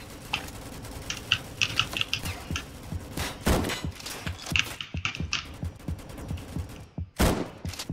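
Rapid gunfire from a high-capacity gun in Roblox Rolling Thunder zombies mode, bursts of sharp cracking shots with mechanical clicks between them, close and loud, alone without talk.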